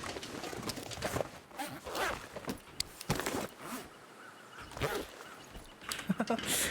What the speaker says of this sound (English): You get the technical backpack zipper ASMR.